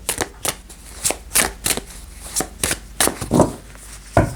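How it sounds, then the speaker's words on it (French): Oracle cards being shuffled and drawn from a deck, a run of crisp, quick riffling flicks and slaps close up, about a dozen sharp bursts in an uneven rhythm with no talking. "Je vais tirer la carte ici."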